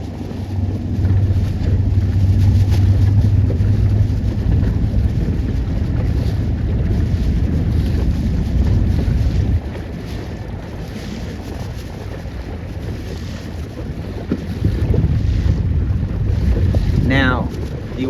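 Sabot sailboats racing toward the windward mark in steady wind: continuous loud wind buffeting the microphone over water and hull noise, with a brief faint voice near the end.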